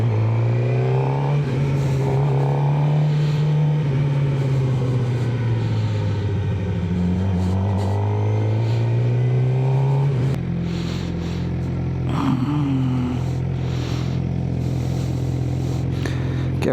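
A stock Suzuki GSX-R 600 sport motorcycle engine runs loud and close, its pitch rising and falling with throttle blips before it settles into a steady idle.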